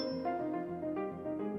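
Resonant rocks struck with a heavy object such as a hammer ring out like bells, several clear metallic strikes each leaving a sustained humming tone, close and fairly loud.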